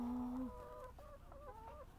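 Chickens cluck and crow softly in a coop, a rising rooster-like call followed by a few short warbling clucks, faint and at some distance with no talking.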